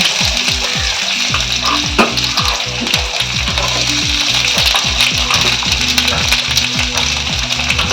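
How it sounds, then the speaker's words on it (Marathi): Onion pieces frying in hot oil in a pan for a dry prawn dish, a loud, continuous sizzle with constant crackling spits, heard close up with no talk. "आता पियावा कोचल घालता,"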